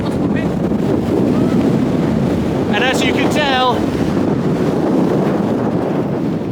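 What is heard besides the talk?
strong wind on the Camino de Santiago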